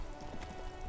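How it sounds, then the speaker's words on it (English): Rain patters steadily on a white-and-blue police motor carriage in the video game Disco Elysium, a soft, continuous hiss of droplets with no voices. "Droplets of rain fall on the white on blue police livery of the motor carriage"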